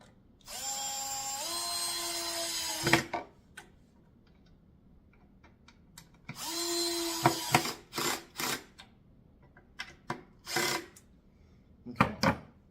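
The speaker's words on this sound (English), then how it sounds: "And again, just drill these down." A drill drives long wood screws into the underside of a wooden kids chair, with two whirring runs, each ending in a clicking clutch, plus scattered knocks and taps in between, fairly close and alone.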